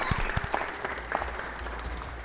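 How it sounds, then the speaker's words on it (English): Applause breaks out at a Los Angeles city council meeting honoring a girls' high school soccer team, a steady patter of clapping from a seated crowd that continues evenly throughout without any speech on top. "Let's give these young ladies a round of applause."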